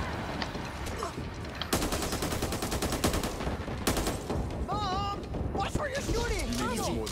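Rapid automatic gunfire rattles in the zombie shooter game Back 4 Blood, dense bursts layered with game effects and players talking over the shots.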